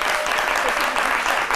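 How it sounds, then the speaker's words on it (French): Studio audience on a French midday television show applauds, a loud, dense and steady wash of clapping throughout, with no talk heard over it. "Merci de vous applaudir."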